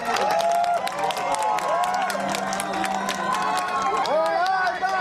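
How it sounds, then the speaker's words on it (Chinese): A large crowd of devotees cheers and shouts as the Dajia Mazu palanquin procession passes through the Minsheng Road underpass in Changhua late at night, with a dense, continuous roar and scattered voices echoing in the passage. "现场大批信众聚集在地下道两旁，欢呼迎接妈祖到来"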